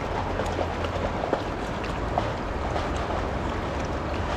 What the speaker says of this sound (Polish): nie wiem czy słyszycie bardziej wodospad, bo jest tutaj w okolicy taka kaskada